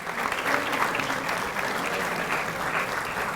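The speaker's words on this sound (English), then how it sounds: "Let's give him another round of applause." Audience applause at a back-to-school kick-off event, a steady dense round of clapping from a sizable crowd, loud and sustained throughout with no pause.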